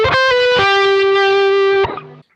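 Distorted electric guitar playing notes from a solo. A few sustained, ringing notes change pitch with hammer-on and slide movement, then cut off abruptly. The guitar is close and loud, with no talking.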